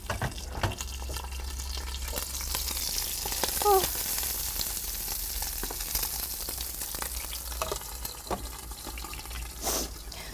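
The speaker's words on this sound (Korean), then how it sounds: "지글지글 소리가 너무 좋아가지고" Mackerel frying in a pan gives a constant soft sizzle throughout, with faint clinks and stirring sounds here and there and no speech.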